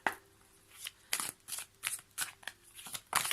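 A deck of tarot cards is shuffled close by in quick riffling bursts, each crisp flurry of card snaps separated by short pauses, with a faint steady hum underneath.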